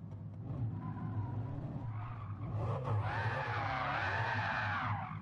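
A Porsche in Gran Turismo 7 revs with a low engine drone, then tires squeal loudly and wavering for the last couple of seconds as it slides.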